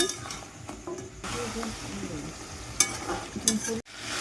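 Mutton stirred in a pan with whole garlic cloves and turmeric, a low sizzle under scraping and clinking of a utensil against the pan, with a few sharp metallic knocks.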